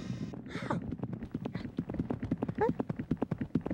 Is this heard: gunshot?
no